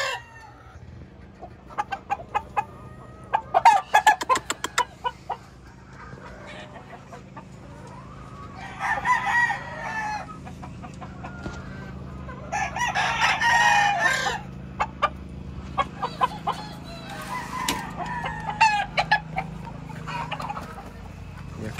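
Red Fox Gray gamefowl roosters on a game farm crow repeatedly and cluck, with several loud crows at different distances over a steady low background hum; no talk.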